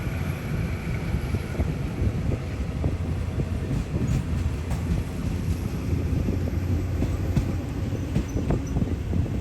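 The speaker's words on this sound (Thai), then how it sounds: "หัวรถจักรที่ใช้เป็น a l s t o m ALS นะครับ รุ่นยอดนิยมที่เขาพูดถึงนะครับ" An Alstom diesel locomotive hauls a train past on a Thai railway line, a loud continuous rumble and wheel clatter with wind buffeting the microphone throughout.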